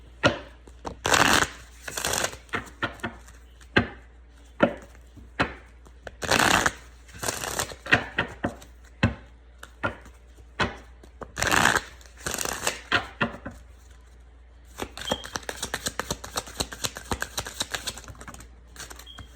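Romance Angels oracle cards from a mini deck being shuffled by hand, a series of crisp riffling bursts in irregular rhythm, close and moderately loud, ending in a denser run of rapid flutters with no talking.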